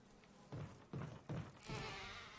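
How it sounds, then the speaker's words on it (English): Bees buzzing in the video game Resident Evil 1, a string of four low droning swells, each a short burst of roughly half a second that fades and returns, the last one spreading into a broader hiss. "the freaking bees! I forgot about the freaking bees"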